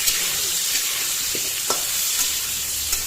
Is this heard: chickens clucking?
no